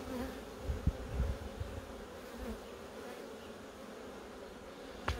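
Honeybees in an opened hive in March, a steady, close, moderately quiet buzzing drone throughout, with a few low thumps near the start.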